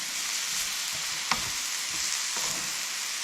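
Beef and broccoli stir fry with onion sizzles steadily in a pan on a camp stove, a constant broadband hiss broken by a few soft utensil scrapes and taps.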